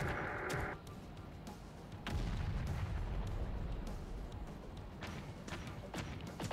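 Battle in the strategy game Terminator: Dark Fate – Defiance, with a continuous rumbling barrage of gunfire and heavy artillery booms and a few sharper cracks, dense and steady throughout.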